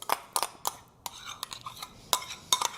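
A spoon or spatula folding avocado into a no-churn ice cream mixture in a bowl, a string of soft scraping strokes and clinks against the bowl at an uneven pace, close and with no talking.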